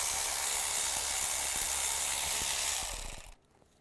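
Ratchet with a 10mm socket loosening the nut on the dipstick tube bracket of a 2002-2009 Chevy Trailblazer engine, a steady close clicking for about three seconds before it stops.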